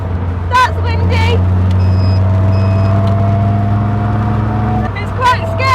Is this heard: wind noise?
yes